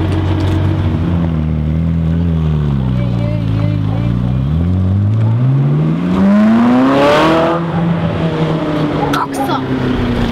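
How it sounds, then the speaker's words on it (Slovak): A Ferrari engine rumbles close by in a small village and then revs up, rising in pitch with a smooth growl. Talk and background chatter can be heard over it. "Aká je šanca, že v 5000-ovej dedine dojde takto na zmrzlinu na Ferrari?"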